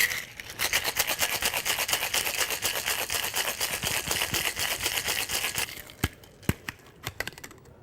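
A cocktail shaker packed with ice is shaken hard for a long run of rapid, loud rattling strokes, then a few separate knocks and clacks as it settles.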